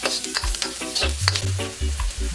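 Garlic sautéing in a little chicken oil alongside onions, a close sizzle broken by repeated stirring scrapes and low knocks of the utensil against the pan, no voices.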